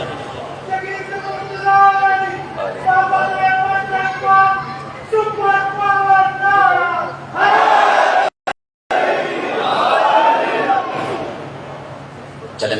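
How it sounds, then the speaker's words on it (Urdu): Crowd at a majlis in Sialkot chants Qalandar slogans in loud rhythmic unison, with a lead voice calling and the gathering answering in repeated waves, echoing in a large hall, with a brief dropout near the end. "یہ کلندر کے نعرے کیوں لگتے ہیں"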